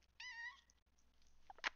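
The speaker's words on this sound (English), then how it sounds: "Get down from there, you goofy cat." A cat gives a single short, close meow, followed by quiet shuffling and a brief soft sound near the end.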